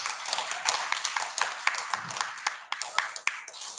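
Scattered applause from a school audience greeting a videography and ICT teacher, with uneven, moderately close claps and faint voices underneath.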